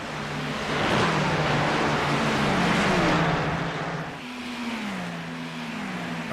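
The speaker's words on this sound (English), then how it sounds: "Cars show to be very loud." Race cars roar around Watkins Glen in a racing video game, a loud, continuous engine drone whose pitch sweeps up and down with shifts and acceleration, with no voices.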